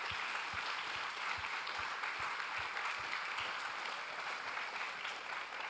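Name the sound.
church congregation applauding the Lord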